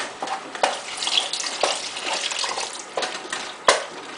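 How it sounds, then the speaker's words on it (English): Homemade beef broth is poured slowly into a pan while being stirred, a soft liquid splashing and bubbling with light spoon scrapes and one sharp clink near the end, close and steady. "next I'm going to add in about 3 cups of beef broth. And you're going to add it slowly, keep stirring"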